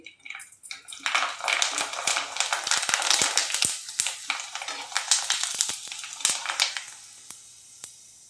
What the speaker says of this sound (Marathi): येल्लो कलर एक तळून घेते.